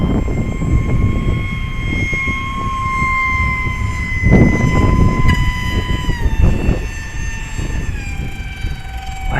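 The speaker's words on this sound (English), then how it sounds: "Why is that prop making that noise?" XF-7 RC plane running on a 4S battery, its propeller giving a loud, steady high-pitched whine with sustained tonal harmonics and a rough rushing roar underneath, rising and dipping slightly as the throttle shifts, close to the listener.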